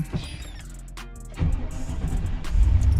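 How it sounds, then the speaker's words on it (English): A pickup truck engine cranks briefly and then catches, settling into a running idle that swells louder toward the end, heard close up from inside the cab with no talk. "let's see if she starts up first crank"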